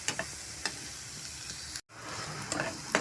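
Onion frying in a pan with a pinch of sugar and salt gives a soft, steady sizzle with a few light stirring clicks and a brief dropout partway through, faint and close with no talking.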